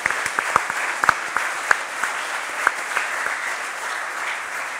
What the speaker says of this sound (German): Applaus auch für den Kollegen